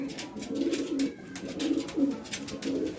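Pigeons offered for sale coo nearby in a steady run of soft, throaty rolling calls, several overlapping one another, with faint background noise and no talking.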